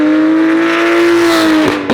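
A custom V12 Ferrari 612TR with side-exit exhaust holds a loud, steady engine drone alone and close, with a slight pitch drop and a brief disturbance near the end.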